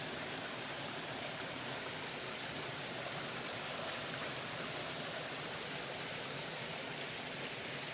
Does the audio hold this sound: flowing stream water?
yes